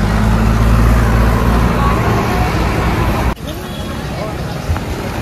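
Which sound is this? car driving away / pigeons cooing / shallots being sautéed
car driving away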